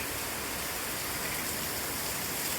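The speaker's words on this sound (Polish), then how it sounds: "Ujęcie, jeszcze ujęcie z deszczem." Steady rain falling outdoors in Cambodia, a dense, even hiss of drops that runs unbroken and fairly loud throughout, with no voices.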